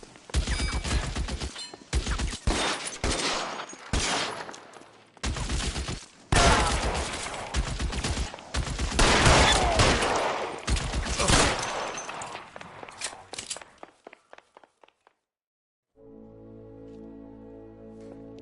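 Gunfire in the video game LA Noire: loud, close volleys of shots in irregular bursts with short gaps between them, then a brief silence and a quieter steady tone at the end.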